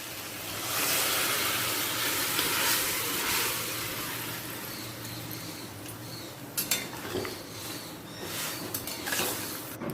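Spices and boiled vegetables being stirred in a pan for sukto, with a soft sizzle under scraping spoon strokes and a few sharp clinks of utensil against metal near the end.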